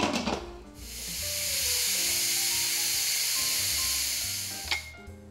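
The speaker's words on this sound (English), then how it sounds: "we're gonna do an instant release on the pressure" Pressure is released from an Instant Pot cooking macaroni: a loud, steady steam hiss starts abruptly, holds for several seconds, then cuts off, with a few clunks at the start and end.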